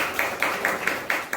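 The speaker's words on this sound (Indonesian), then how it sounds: "Tepuk tangan dulu untuk semuanya." Students applauding together at the close of a university micro-teaching class session, a brief, fairly faint patter of clapping in several soft surges.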